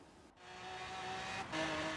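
A Chevy El Camino in Forza Horizon 3, tuned past 265 mph, drives with a steady engine drone and a brief gear-change dip, then the revs climb louder again. No voices.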